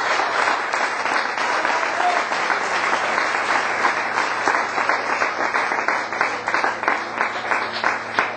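A church congregation breaks into loud, sustained applause, dense clapping from many hands filling the room for several seconds before thinning slightly toward the end.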